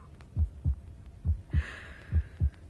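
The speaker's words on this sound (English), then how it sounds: "My own heartbeat." A heartbeat sound effect in a radio ghost story thumps in steady low lub-dub pairs, three double beats, muffled and close, with a faint airy hiss rising partway through.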